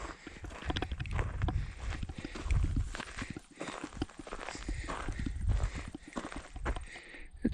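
A horse walking near a campsite in the Grayson Highlands and Mount Rogers mountains in autumn, with loud close hoof clip-clops in an uneven rhythm and a short whinny, over rustling and outdoor noise.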